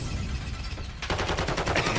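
Rapid bursts of gunfire in a Call of Duty League 2023 grand final match, Seattle Surge against New York Subliners, a low rumble giving way after a second to dense, rhythmic automatic fire, loud and close.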